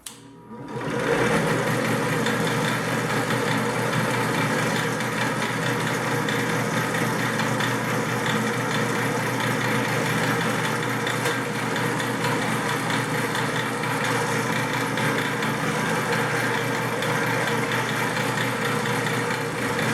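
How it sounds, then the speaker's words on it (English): A power drill whirs continuously at close range, drilling quarter-inch holes in Kydex sheet, a steady high-pitched motor drone running without pause for the full length. "We're gonna go ahead and drill them."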